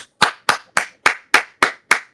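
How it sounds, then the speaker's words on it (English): Claps for Camille on a chat podcast: eight sharp, close claps struck at an even, quick rhythm, each crisp and separated by short silences, with no talking. "Let's give Camille some claps"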